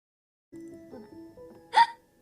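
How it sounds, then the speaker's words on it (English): A single sharp hiccup bursts out loud and close after a stretch of quiet talking, standing out as one abrupt vocal spasm. "I get the hiccups."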